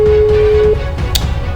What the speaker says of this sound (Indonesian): Gue telepon si Wahidip nih guys